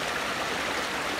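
Water flows steadily in a stream, a dense continuous rushing and gurgling wash, close and fairly loud with no voices.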